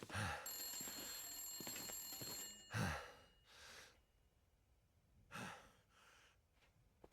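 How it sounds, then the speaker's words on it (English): A phone rings inside a hunting lodge in The Long Dark, a repeated electronic trill that sounds in separate bursts with quiet gaps, alongside soft breathing and a sigh. "The phone is ringing."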